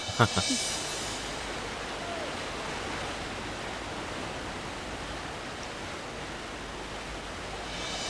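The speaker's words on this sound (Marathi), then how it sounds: "मी तर तुम्हाला इथं वॉटरफॉल दाखवायला आणलं होतं" A waterfall roars as a steady, broad rush of falling water, even and continuous throughout, with a few faint knocks at the start.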